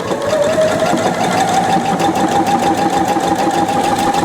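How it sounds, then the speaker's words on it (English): A Pfaff 720 sewing machine stitches a buttonhole in fabric, a steady close mechanical whir with a rapid, even needle rhythm and a faint rising motor tone, running continuously without pause. "Let's see if I have enough fabric to make the buttonhole."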